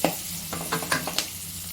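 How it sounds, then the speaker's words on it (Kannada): Chillies fry in a pan for mushroom butter gravy, a close, soft sizzle broken by several scraping stirs of a spoon at an uneven rhythm, with no voices. "ಮೂರು ಮೆಣಸಿನ್ಕಾಯಿ ಫ್ರೈ ಮಾಡಿಕೊಂಡೆ ಒಂದು ಸ್ವಲ್ಪ"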